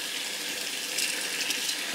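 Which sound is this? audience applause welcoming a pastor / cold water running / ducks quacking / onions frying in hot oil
cold water running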